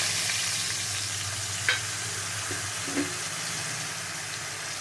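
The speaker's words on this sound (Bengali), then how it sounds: "এর মধ্যে এখন আমি যে মশলাটা করে রেখেছিলাম, জল দিয়ে গুলে রেখেছিলাম, এটা দিয়ে দিলাম।" Water-thinned spice paste with cumin hits hot oil in a pan while cooking pointed gourd, giving a steady, close, hissing sizzle broken by a couple of soft clinks from stirring.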